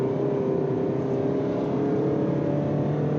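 Steady engine and road noise from inside a moving car, a constant low hum with a faint tonal drone, moderately quiet and without speech.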